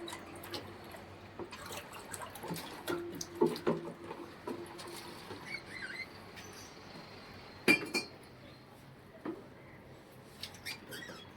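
A mixture is stirred in a container until it dissolves, producing soft scattered clinks and faint watery swishes with irregular timing and a few sharper taps, all fairly quiet.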